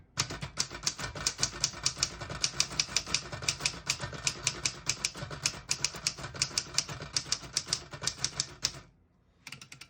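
A 1954 Underwood Leader vintage portable typewriter typing steadily, with rapid, close, crisp key strikes in an uneven rhythm for about nine seconds before the clatter stops and near-silence follows.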